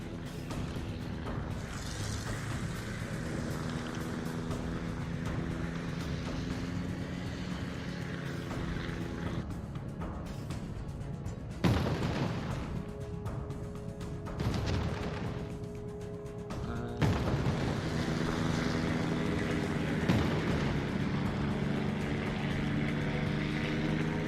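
Aircraft attacking ships in a naval video game: a steady engine drone with rumbling bursts and booming impacts, louder swells around the middle and later, no talk.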